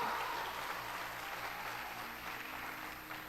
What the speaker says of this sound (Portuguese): Pode ser mais forte esse aplauso aí